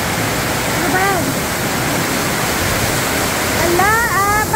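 Heavy rainwater pours and leaks all through a house during a strong overnight rainstorm, a loud, steady broadband rush throughout, with two brief voices speaking over it near the start and end.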